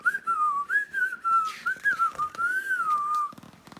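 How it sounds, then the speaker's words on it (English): A person whistles a bright, wavering melody up close, with light footsteps and soft rustling underneath, ending with a few dull thuds. "he whistled while he walked"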